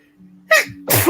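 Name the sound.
sneeze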